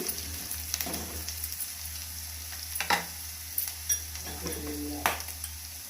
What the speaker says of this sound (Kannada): ಹಸಿಮೆಣಸಿನ್ಕಾಯಿ ಹಾಕಿ ಎಲ್ಲ ಫ್ರೈ ಮಾಡೋಣ ಕರಿಬೇವು ಹಾಕ್ತಾಯಿದ್ದೀನಿ